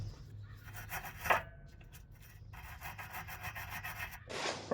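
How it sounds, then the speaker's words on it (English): A wire brush scrubs a rusty suspension stud on a 2004 Honda Pilot, heard as bursts of raspy back-and-forth scratching with brief pauses between strokes, close and moderately loud. "I'm going to clean this stud off with a wire brush also"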